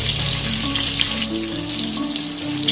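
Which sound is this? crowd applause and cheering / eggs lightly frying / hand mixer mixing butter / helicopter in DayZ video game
eggs lightly frying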